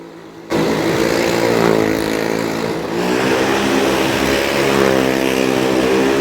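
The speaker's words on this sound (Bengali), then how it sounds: "এবার গাড়িও স্টার্ট হচ্ছে" A vehicle engine at a village fair starts abruptly and holds a loud, steady running drone with rising and falling revs, near and continuous for several seconds, with no talk.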